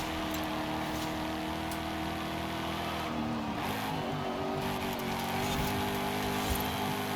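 A 2024 Ford Mustang in Forza Horizon 5 accelerates with a steady, loud engine drone and a rising pitch sweep midway, continuous throughout with no talk.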